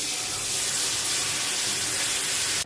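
Loud, steady hiss of milk poured into browned, roasting flour in a hot pan, sizzling evenly throughout and cutting off abruptly at the end, with no voices.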